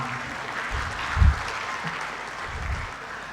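An audience claps for the guest of honor at a Tanzania–Uganda business forum, with steady, moderately loud applause and a few stronger bursts through the short stretch.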